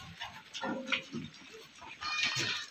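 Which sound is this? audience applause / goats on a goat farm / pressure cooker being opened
goats on a goat farm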